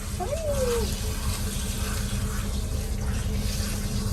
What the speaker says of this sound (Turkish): Bak bak bak ılık su geldi.